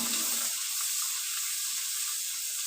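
Garam masala and ginger paste hitting hot oil after onion paste, a loud, close, continuous hissing sizzle, strongest at the first moment and then steady, with no voices.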